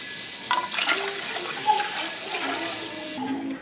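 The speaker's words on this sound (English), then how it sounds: "And then I'm going to top it off with water." Water pours into a canning pot holding jars of candied jalapeños, a steady splashing rush with a few brighter gurgles before it cuts off near the end.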